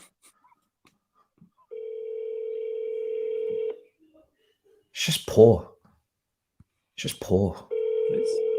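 A telephone rings with long steady tones separated by silence, going unanswered, while short bursts of voice and a sneeze-like sound break in between the rings.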